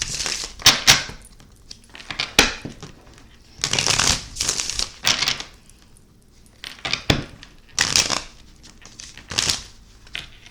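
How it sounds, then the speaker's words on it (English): A brand-new deck of playing cards being shuffled in repeated bursts of riffling and bridging, each flurry a second or two long with short pauses between, close and crisp. "These are new cards. They shuffle weird, but I like the way they shuffle."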